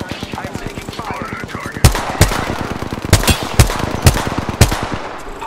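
In Apex Legends, rapid automatic gunfire rattles in a fast, steady stream of close, loud shots, with heavier single blasts cutting through every half second or so.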